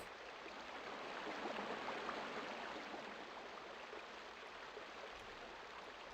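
Steady broadband rush of a river flowing in Asheron's Call, a continuous even wash of water that stays constant and close throughout, with no voices.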